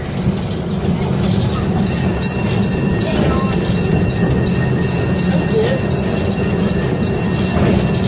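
A miniature zoo train rumbles along steadily with a constant rattling roar and faint rhythmic clicking, loud and close throughout.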